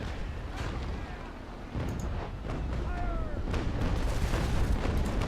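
Deep booming naval cannon fire from Naval Action Legends rolls out in a loud continuous barrage, rumbling low under spoken commentary.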